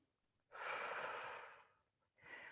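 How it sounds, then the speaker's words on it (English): Slow, deep breathing during a stretching exercise: a long, airy exhale or inhale lasting over a second, a brief pause, then the next breath starting, close and clear with no talking. "So breathing in forward, breathe out back."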